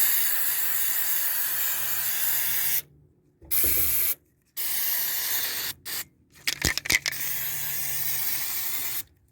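Spray can hissing as it coats a rusty rain gutter, several bursts of steady close hiss separated by short pauses, with a few quick clicks and rattles near the middle.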